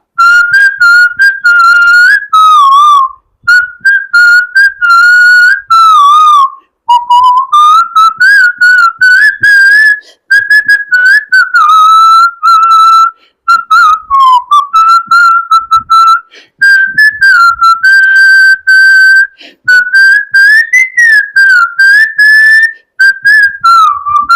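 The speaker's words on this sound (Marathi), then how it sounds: "मी शिट्टीतून गाणं म्हणून दाखवणार, ते गाणं कुठलं आहे आम्हाला आवर्जून सांगा." Someone whistles a song melody loud and close, in long sustained phrases with pitch bends, separated by brief pauses for breath.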